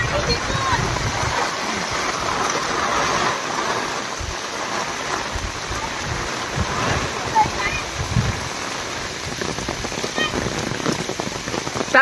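Steady monsoon rain pours in the Konkan countryside, a dense continuous hiss of drops on surfaces throughout, with voices talking over it.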